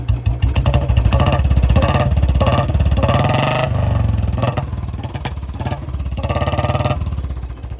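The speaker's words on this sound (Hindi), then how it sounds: "इसके साउंड सुनो एक बार, मैं आपको एक्सेलरेट करके दिखाता हूँ, फिर इसकी आवाज़ सुनना।" Royal Enfield Standard Bullet BS4 motorcycle revved repeatedly close by, its loud thumping single-cylinder engine rising and falling through several throttle blips over a steady idle.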